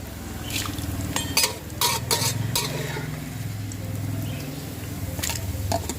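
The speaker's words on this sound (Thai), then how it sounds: "ตักขึ้นพักเสร็จน้ำมันเลยค่ะ" Metal utensils clink and scrape against a pan while scooping crispy fried small fish out of hot oil, with several bright clatters in quick succession over a steady low background hum.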